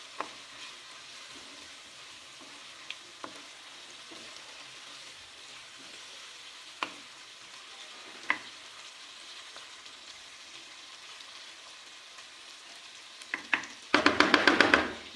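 Okra frying in masala while being stirred, a soft low sizzle with occasional scrapes and taps of a spatula, then a sharper burst of clatter and hiss near the end, close and quiet, with no talking.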